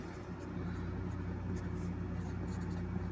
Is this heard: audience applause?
no